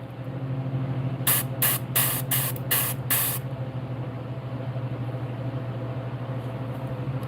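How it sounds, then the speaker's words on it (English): Paint sprayed from an airbrush onto a largemouth bass fishing lure, six quick hissing bursts in a rhythmic row, close and sharp over a steady compressor-like hum, then only the hum continues. "That was an overspray, and I caught that."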